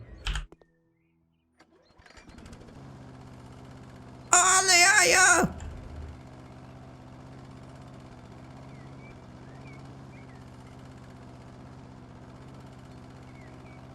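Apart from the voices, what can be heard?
petrol lawnmower running in House Flipper video game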